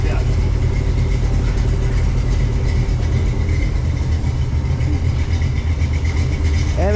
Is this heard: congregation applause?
no